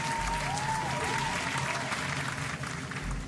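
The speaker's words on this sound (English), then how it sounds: "a round of applause for Boston" Steady applause from a crowd plays throughout, even and sustained with a faint whistling tone over it, set against a Microsoft Flight Simulator 2020 flight over Boston.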